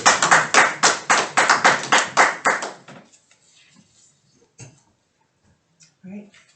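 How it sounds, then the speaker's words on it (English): A short burst of close, loud clapping at a town budget public hearing, roughly a dozen sharp claps that stop abruptly after about three seconds, followed by near silence with faint room noises and a brief voice. "Erica deserves a round of applause for the work she's done for the people of the town of Rockland."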